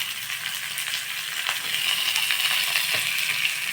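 Mustard seeds, curry leaves and onion tempering in hot oil for paniyaram batter, giving a dense, continuous sizzle that swells slightly partway through, close up and with no voices.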